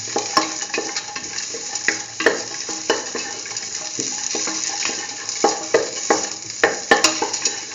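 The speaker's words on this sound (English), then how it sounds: "Put in the salt, and mix." Chayote, bell pepper and rice stirred with salt in a pan, a steady scraping sizzle broken by repeated spatula strokes and clinks, up close and alone.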